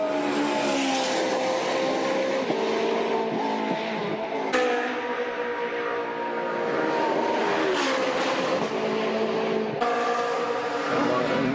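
Race cars lap the Bathurst circuit during 12 Hour qualifying, engines roaring loud and continuous as they pass close by, with revs rising and falling through gear changes and no break in the noise.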